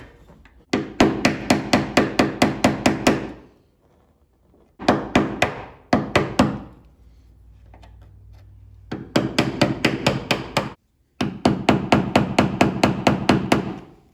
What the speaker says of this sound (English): Just using the screwdriver method will push it out, just banging it out.